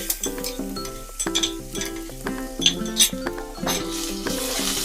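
Chopped ginger and garlic fry in a pan for a vegetable jalfrezi, a soft sizzle under repeated metallic clinks and spoon scrapes against the pan that ring briefly, with no talking.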